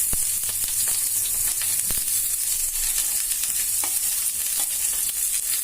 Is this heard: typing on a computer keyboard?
no